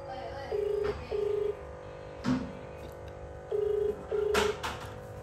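A phone being dialed gives short keypad tones, then a ringback tone repeats in paired beeps with gaps while the call goes unanswered, heard fairly quietly with a few soft clicks and knocks between.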